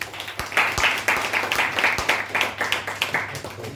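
Audience applause at a product presentation, a burst of many hands clapping fairly loud and close for a few seconds with faint voices underneath.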